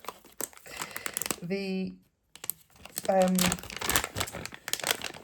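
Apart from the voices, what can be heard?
crinkling plastic bag as refills are pulled out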